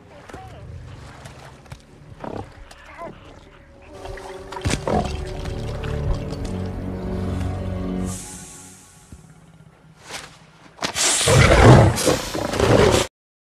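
A lion roars in a film scene, with deep growling calls and sharp bursts amid tense music, while a loud rushing burst near the end drowns out everything before cutting off.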